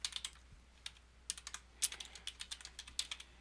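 Commands are entered into a terminal on a computer keyboard: soft, uneven keystrokes tapped at a moderate pace over a low hum, close and faint, with one louder key press midway.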